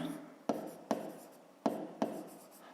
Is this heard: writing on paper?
yes